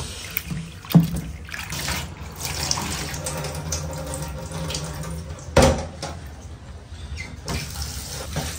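Tap water runs steadily into a sink while soaked chana dal is washed, close and moderately loud, with a couple of sharp knocks of a pot or hand against the basin.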